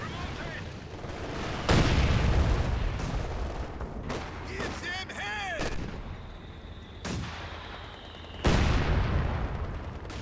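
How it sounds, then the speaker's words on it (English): Incendiary artillery barrage in Company of Heroes 2: several heavy, booming shell impacts spaced seconds apart amid crackling battlefield noise, with whistling rounds in between and a commentator talking over parts. "Incendiary barrage again targeting the heavy mortar"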